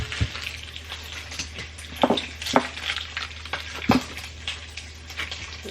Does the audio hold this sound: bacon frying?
yes